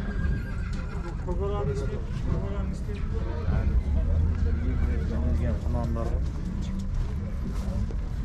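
A stallion whinnies repeatedly amid a busy outdoor crowd at a livestock market near Almaty, with people talking throughout and a steady low rumble underneath.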